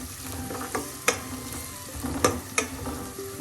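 Spice masala of Kashmiri chili, coriander and pepper powders sizzles and gets stirred in a pan for a Naden Para fish curry, a steady soft fry broken by a few sharp scraping clicks of the spoon, close and moderately quiet.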